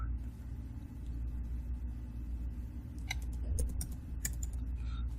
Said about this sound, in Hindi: यहाँ पर मैं अपना इकामा नंबर टाइप करूंगा